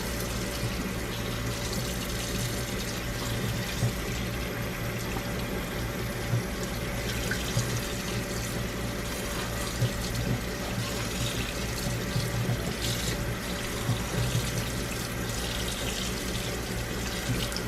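Cooked pasta rinsed under a steady stream of running tap water in a kitchen sink, a continuous close splashing rush that holds at an even level throughout with no talking.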